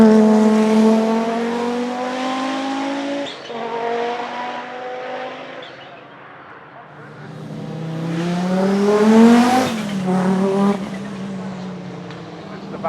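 A 1989 Audi 90 Quattro IMSA GTO race car's turbocharged five-cylinder engine revs hard and loud, rising and falling in pitch with sharp gear changes and turbo chirps as it accelerates nearby.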